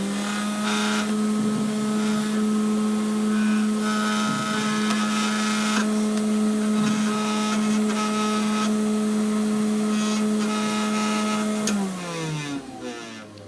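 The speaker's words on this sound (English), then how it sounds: "give you a sound of the motor with just the motor running" Rainbow D2a canister vacuum running on its motor alone without the power brush, a loud steady whine with a constant hum that winds down near the end.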